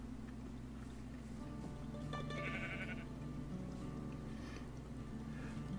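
Sheep bleating in Minecraft, a short faint bleat or two rising briefly over a steady low game hum, with no voices.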